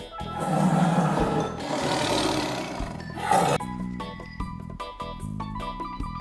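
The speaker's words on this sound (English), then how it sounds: "tiger," A tiger gives a loud, rough roar lasting about three seconds, followed by a stretch of steady music.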